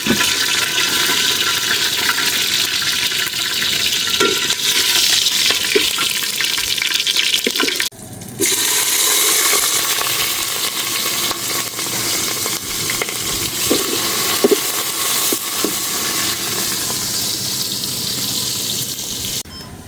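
Whole cardamom, cumin seeds, bay leaves and dried chillies hit hot oil for chicken bhuna khichuri, giving a loud, steady, close sizzle that rushes on without pause and dips only briefly midway.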